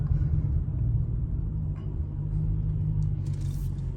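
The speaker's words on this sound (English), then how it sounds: "This car is just loud." A 2004 Mercedes SL55 with a coilover conversion gives off a loud, deep engine rumble that holds steady and close throughout, with no talking.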